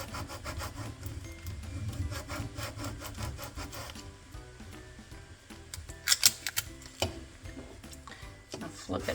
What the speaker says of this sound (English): Scrape that down really well.